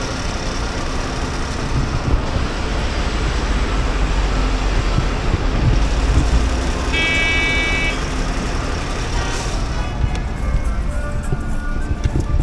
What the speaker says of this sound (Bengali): সাসারাম টোলগেটে, টোল গেটের জন্য এতটা জ্যাম এখানটা, দেখুন অবস্থাটা।